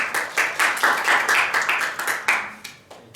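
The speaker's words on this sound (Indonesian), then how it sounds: "Untuk kelompok 3 kita beri tepuk tangan" A small classroom group at a microteaching practice session claps for a presenting team: about three seconds of moderately loud, rhythmic hand claps that tail off into scattered final claps.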